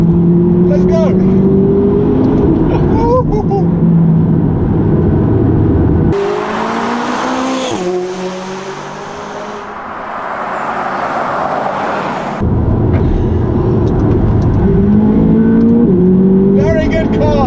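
McLaren 570GT sports car accelerating hard through the gears, engine notes climbing and dropping at each shift, loud and close, with a muffled stretch in the middle.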